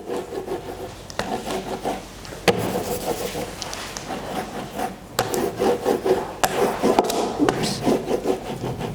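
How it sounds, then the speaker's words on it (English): Scratching marks into painted 3-ply wood makes a dry rubbing, rasping texture in repeated strokes, fairly close and steady, with a brief exclamation from a person partway through. "I have scratched quite a few sort of scratchy marks in here to create some sort of grassy type textures and branches"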